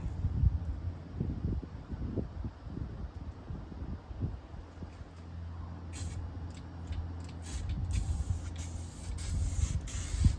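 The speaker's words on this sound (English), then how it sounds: "now that I have this shook up, I'm going to go ahead and get ready to paint" Bedliner paint sprays onto a Toyota Tacoma bumper in steady hissing bursts from a nearby can or gun, repeated short blasts starting partway through over a low rumbling background.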